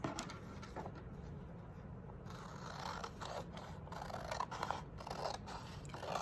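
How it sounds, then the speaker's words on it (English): Steady crisp snipping and crunchy cutting of paper with scissors, close and fairly quiet, running continuously over a low background hum. "I'm gonna cut off kind of this extra piece that isn't folded over. So I'll take my scissors"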